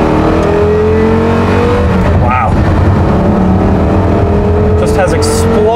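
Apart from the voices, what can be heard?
Porsche Carrera GT engine revving while driving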